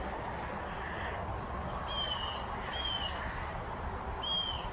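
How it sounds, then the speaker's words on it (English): A crow cawing agitatedly outdoors, three harsh, ringing calls at moderate distance over a steady background hiss, with a few faint bird chirps between. "Man, that crow is going nuts."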